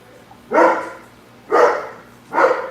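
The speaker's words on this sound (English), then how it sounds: "Well, there's a dog here too." Three separate dog barks spaced about a second apart, fairly close and loud, with quiet room tone between them and no talking.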